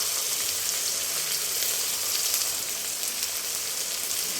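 Spices, including turmeric and chili powder, frying in oil in a pan for a Bengali fish dish, giving a steady, dense close sizzle with no break.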